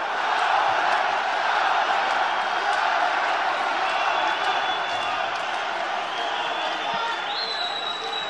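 A packed arena crowd roars steadily behind a St. Petersburg fighter in the fifth and final round of an ACB 61 MMA bout, a loud continuous wash of cheering and shouting with commentary voices faintly over it.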